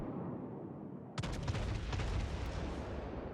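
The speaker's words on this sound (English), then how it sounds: "So we fire on him." HMS Warspite, a British battleship in World of Warships, fires a heavy salvo from its main guns: one sudden, loud boom after a quiet moment, then a rolling, rumbling tail of blasts that fills the rest.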